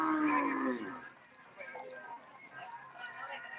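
At a Madura bull race field, cattle low with a drawn-out moo at the start, then quieter scattered animal calls and faint background voices.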